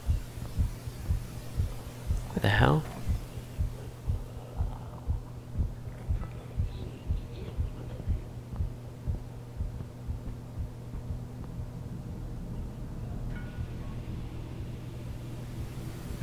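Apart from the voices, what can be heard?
heartbeat in a horror video game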